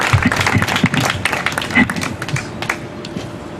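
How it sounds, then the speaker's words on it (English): Scattered clapping from a crowd at an outdoor America First political rally, near and uneven. A few distinct hand claps stand out at first, then thin out toward the end. "Please give them another round of applause."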